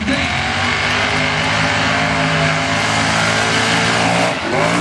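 A mega truck's engine revs hard and loud at a 2022 finals event, a sustained, strained roar with harmonic drone holding steady for several seconds before a brief dip near the end.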